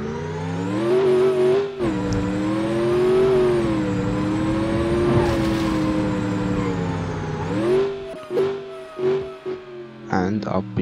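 A car in BeamNG.drive revs with a steady, rising and falling engine drone, then grows choppier with throttle bursts toward the end, while a person talks over it.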